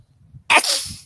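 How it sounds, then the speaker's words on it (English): One close, sharp sneeze erupts from a quiet background and trails off with a breathy tail. "there's just on a whole lot of ways to finesse a sneeze when you got to do it"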